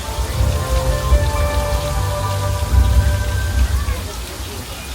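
Simulated rain pours down on the Universal Studios backlot during a tram tour flash-flood effect, a loud steady hiss of falling water with low rumbling surges, under tonal ride sounds and a faint voice.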